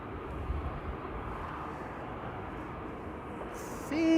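A fixed-wing airplane at Amsterdam Schiphol Airport rumbles steadily in the distance, a broad continuous roar that grows slightly louder near the end, with faint outdoor background noise.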